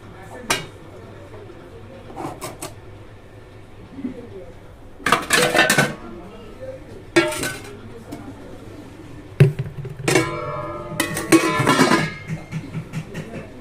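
Cooked dishes and pots in a home kitchen being covered with lids, a series of clanking metal and ceramic knocks and rattles in scattered bursts, some sharp and ringing, against a quiet room.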